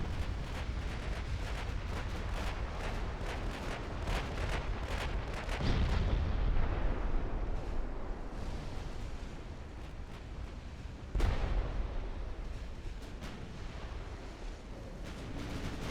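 Heavy booming impacts of torpedoes striking ships in the naval battle game Ultimate Admiral Dreadnoughts rumble over a continuous roar of battle noise, with a couple of louder blasts standing out.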